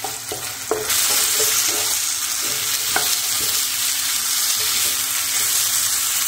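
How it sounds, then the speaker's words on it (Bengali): Potatoes and tomatoes fry in a pan for aloo dum, a steady broadband sizzle broken by a series of scraping stirring strokes, close and continuous with no talk. "আলু আর টমেটো দিয়ে সুন্দর করে একটু ভেজে নিয়েছি"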